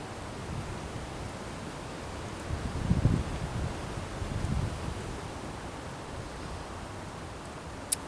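Gusty wind blows outdoors on a warm, mostly cloudy February day in Louisiana, a steady broad rush with a few stronger buffets against the microphone and no talking.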